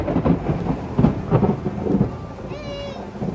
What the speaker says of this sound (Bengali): আর বৃষ্টি এখনো পড়ছে